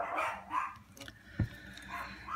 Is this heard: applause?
no